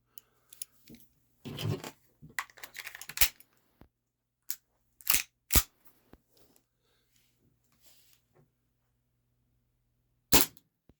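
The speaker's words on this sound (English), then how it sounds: "First up, green gas, velocity with shot count." A Cybergun Desert Eagle gas blowback airsoft pistol fires on green gas, sharp close snapping shots spaced irregularly across quiet gaps, with handling clicks and rustles between them.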